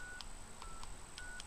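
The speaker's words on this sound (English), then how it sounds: "Okay, I got dial tone. Let's call the commercial phone." Faint touch-tone dialing beeps sound on a field phone PABX line: about five short tones in quick succession, heard over a steady thin background tone.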